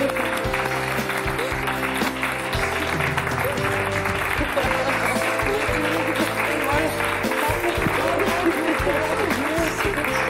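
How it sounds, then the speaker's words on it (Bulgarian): Loud, dense applause from a studio audience welcoming Stoyko and Katya, sustained clapping filling the whole stretch with steady intensity and no let-up. "А сега нека посрещнем с аплодисментите, които заслужават нашите големи герои – Стойко и Катя."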